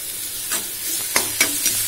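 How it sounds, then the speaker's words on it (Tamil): Onions sautéing in a pan for a brinjal and dried-fish thokku sizzle steadily while a spoon stirs them in several distinct scraping strokes, close and moderately loud, with no talking. "இப்போ வெங்காயம் நல்லா வதங்கிடுச்சு, தக்காளி ஆட் பண்ணிக்கலாம்."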